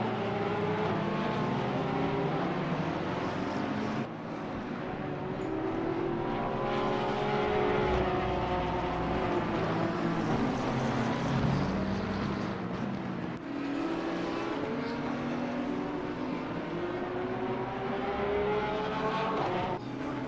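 Race cars lap the Nürburgring in Assetto Corsa Competizione, including a Porsche, with a continuous high engine drone whose pitch rises and falls through gear changes, steady and fairly loud.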